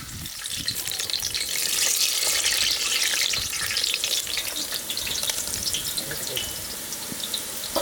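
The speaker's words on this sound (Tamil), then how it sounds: "ஓலை பக்கோடா நல்லா வெந்துடுச்சு." Ribbon pakoda (ola pakoda) dough fries in hot oil with a continuous bright sizzle and crackle, occasional stirring and scraping, and faint talk in the background.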